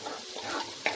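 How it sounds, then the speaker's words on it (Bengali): Ground coriander, cumin, turmeric and Kashmiri red chilli powder being stirred in a frying pan, a close, steady sizzle with scraping strokes and a sharp clink near the end. "আরও 1 মিনিটের মতো নাড়াচাড়া করে নেব"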